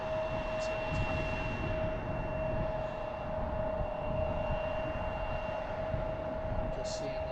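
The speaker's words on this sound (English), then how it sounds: "Frontier taxied out to the runway. They're going to be taking off soon." A Frontier airliner's jet engines taxi toward the runway at Harrisburg International Airport (MDT) on a Saturday morning, a steady, loud broadband roar with constant high whining tones running through it.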